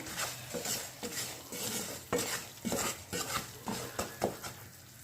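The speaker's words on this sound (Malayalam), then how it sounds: "അത് ഞാനിങ്ങനെ നന്നായി ഫ്രൈ ചെയ്തെടുക്കുന്നുണ്ട്" Sticky jaggery is stirred with ghee in a pan for poha laddu, a spatula scraping in repeated strokes over a faint sizzle, close and fairly quiet.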